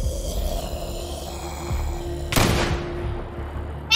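A single sharp gunshot cracks out loudly in a zombie-shooting video game, followed by a short decaying tail over a quiet, low in-game background.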